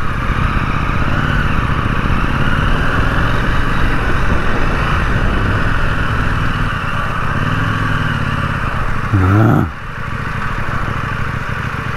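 KTM Duke 790 motorcycle engine running steadily in street throttle mode, a sustained mid-pitched drone with harmonic layers and a brief rev change near the end.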